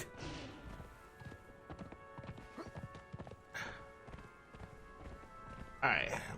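A horse clip-clops along at a run in the video game Conan Exiles, with quick, fairly faint hoof thuds repeating under low game ambience and a louder burst near the end.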